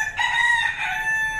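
Neighbours' backyard rooster crowing once in a long, drawn-out call, clear and fairly close, with no talk over it.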